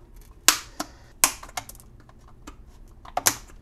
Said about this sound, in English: I'm just cutting through the bottom.